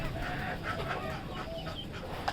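Chickens cluck faintly at a poultry farm during morning care, a scattered run of short calls over steady background noise, with no talking.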